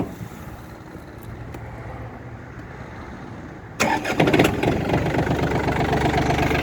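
A Japanese four-wheel-drive diesel tractor fitted with a soil rotary tiller cranks and fires abruptly partway in, then settles into a loud, steady, close idle rumble.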